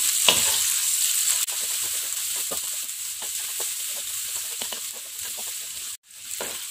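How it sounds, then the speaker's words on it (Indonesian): Garlic and shallots being stir-fried in a pan for a dish of salted fish with green chili, a steady close sizzle with soft scraping stirs throughout, no voices. "ini kita tumis terlebih dahulu. Di sini kita tumis hingga mengeluarkan aroma yang wangi"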